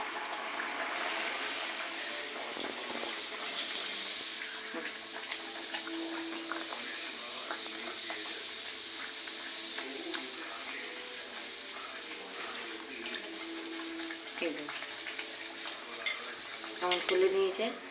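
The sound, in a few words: dal puri (Radha Ballavi) frying in oil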